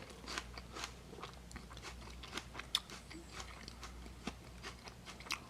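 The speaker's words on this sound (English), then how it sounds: "going to bite into this apple" A firm, tart apple with reddish skin flecked yellow and green is bitten and chewed up close, giving repeated sharp crunches and crackles at an uneven rhythm over faint room noise, with no talking.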